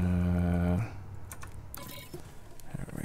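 Fingers clicking on a computer keyboard at a PC gaming setup. A sustained electronic tone plays first, then breaks off into a run of scattered, close key taps.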